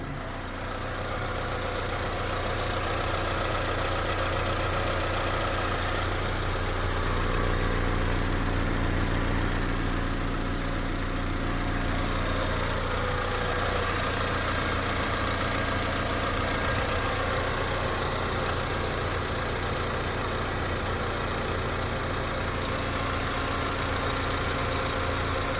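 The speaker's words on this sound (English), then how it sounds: "I'm going to get out now and let you listen to the motor" A 2002 Honda Civic Si sedan engine idling steadily with the hood open, a continuous even hum heard up close for a long stretch with no talking.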